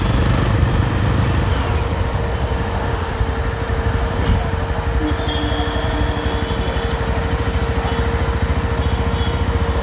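A Yezdi Roadster motorcycle engine runs with a continuous low rumble and throb, steady and fairly loud throughout, ridden near Besant Nagar beach, with no talking.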